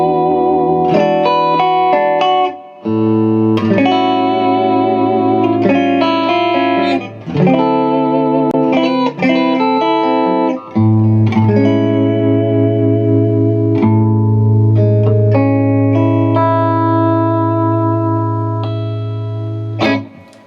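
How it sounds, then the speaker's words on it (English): PRS 58/15 Custom 24 electric guitar in the middle position with both humbuckers split in parallel, strummed chords and picked notes ringing out clean with light effects and reverb, loud and continuous with no talking. "now I'm going to put it in the middle position, so both humbuckers split in parallel"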